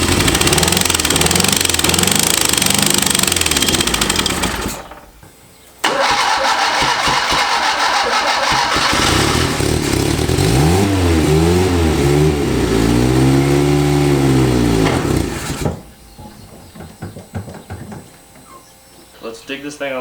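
An abandoned Fiat engine that has sat unused for 30 years in a barn cranks loudly, falls quiet briefly, then catches and runs with a rough, uneven roar that changes pitch as it revs before dropping back to a lower idle.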